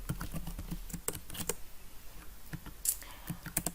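Code is typed on a computer keyboard in quiet, irregular bursts of clicking keys with short pauses between, soft and close with no talking.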